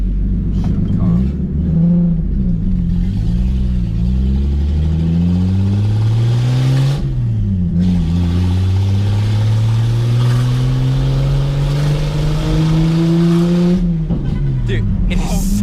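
A Nissan 280ZX project car with a newly replaced, not yet broken-in clutch runs very loud, its engine revving up and down through repeated rising pulls with a deep rumbling exhaust, heard from inside as people talk over it.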